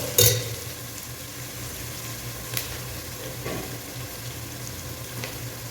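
Onions sautéing in a pan hiss with a steady sizzle, opening with a sharp scrape or clatter of stirring. Occasional soft knocks from the utensil follow.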